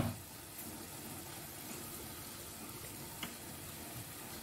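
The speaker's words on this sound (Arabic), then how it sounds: "وبعد أن بدأ بالقلي" Okra and lamb sizzle quietly in a hot pan, a steady faint crackle and hiss with one small clink partway through and no voices.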